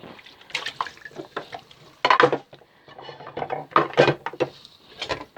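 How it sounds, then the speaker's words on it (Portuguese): Dishes, cutlery and pots are set into a washing basin, giving a series of close clinks, knocks and clatters with light splashing of water, irregular and fairly quiet throughout. "Já posso pôr o resto da louça aqui dentro."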